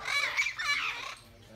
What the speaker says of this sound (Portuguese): Olha o periquito ali que nós estávamos brincando com ele.